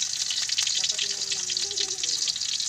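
Chopped onion sautéing in a hot pan for chicken adobo gives a steady, close hiss and sizzle from start to end, with faint clinks of stirring.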